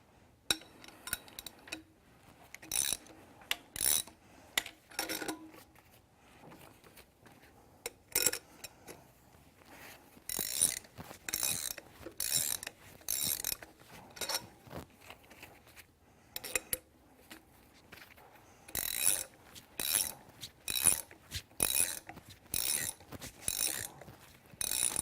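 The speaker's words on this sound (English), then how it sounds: "We will be turning each spool a little at a time until it is all the way seated into the slot." Spools are turned a little at a time to draw a rounded seal-groove restrictor bar into its slot, giving repeated ratcheting clicks in short bursts with pauses between, fairly close and moderately loud, with no talk.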